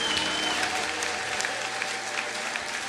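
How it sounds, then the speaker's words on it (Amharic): A congregation at an Ethiopian church worship service applauds, thick continuous clapping from a large crowd that stays steady and fairly loud for the whole stretch. "አጨብጭቡ ስለ ጌታ ክብር።"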